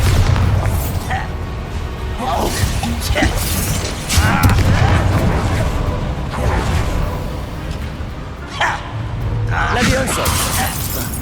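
Booming magical blasts from Bombarda and Confringo spells in Hogwarts Legacy, several loud bursts scattered amid combat noise, with a voice talking over them.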